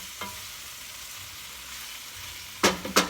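Vegan meatballs browning in a pan over turned-down heat, a low steady sizzle broken by a few sharp clinks or scrapes near the end.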